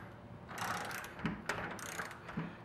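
A tool loosening round point set screws on a metal roof clamp gives short metallic ratcheting clicks and scrapes, close and moderately quiet, in a few uneven bursts.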